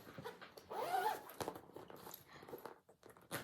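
Clothing-style zippers on cross-stitch project bags are pulled open and closed in several quick rasping strokes, close by, amid soft handling rustle.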